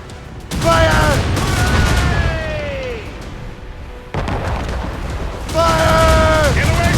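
Naval cannon broadsides boom from a sailing warship in the game Assassin's Creed Rogue, heavy rolling blasts and sustained rumble in two waves, with shouted voices over the gunfire.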